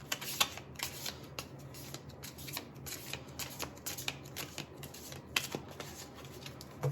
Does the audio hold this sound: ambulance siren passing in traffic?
no